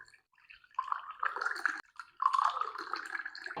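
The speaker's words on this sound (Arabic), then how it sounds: "احنا بنضيف المي شوي شوي لحتى نوصل للقوام اللي بدنا نفرجيكم عليه بالاخر" Lukewarm water is poured little by little into flour for Arabic bread dough, heard as faint, close trickles that come in short bursts with brief pauses between them.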